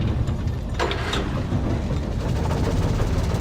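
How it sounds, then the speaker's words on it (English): A vehicle engine in the game Alan Wake runs with a steady, low rumbling drone, close and continuous, with a faint brief clatter partway through. "Let's hope that engine stays running"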